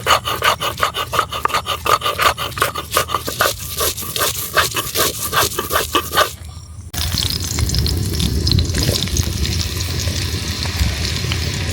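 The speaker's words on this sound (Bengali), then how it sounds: "এখন আমরা বেটে নিব শুকনো মরিচ" Dried chilies ground on a traditional grinding stone for a village chicken chukka, a loud rhythmic rasping rub of repeated strokes for about six seconds, then a steady coarse scraping grind continuing to the end.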